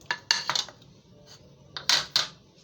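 Tomatoes rubbed against a metal grater over a plate, in short scraping strokes that come in uneven bursts, close and fairly loud, with no talk.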